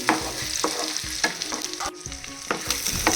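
Batter-coated country chicken eggs fry in a pan of oil with a constant close sizzle, broken by repeated scraping and clinking as the pieces are stirred and turned over.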